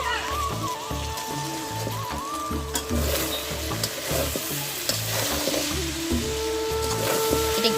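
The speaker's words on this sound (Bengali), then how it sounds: "এটা একটু দাগ দাগ লাগা ভাজা হবে।" Small fish curry fries in a pan with a steady crackling sizzle, and soft rhythmic low thumps repeat beneath it for several seconds.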